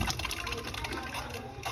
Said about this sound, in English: You got a steady stream of water coming out.